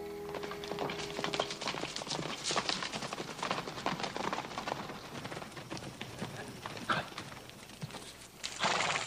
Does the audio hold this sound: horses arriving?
yes